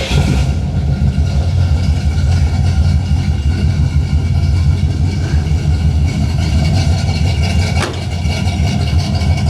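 A 1969 Pontiac LeMans GTO clone with a 350 cubic inch 5.7 liter V8 and three-speed automatic idles steadily and loud, a dense low rumble holding for the whole stretch with a brief dip near the end.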